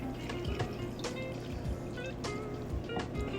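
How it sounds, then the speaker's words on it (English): About a cup of chicken broth is poured over ramen pasta, giving soft splashes and drips in a series of brief liquid bursts over a low, steady background. "I've got about maybe about a cup of chicken broth here that I'm going to pour on top of it."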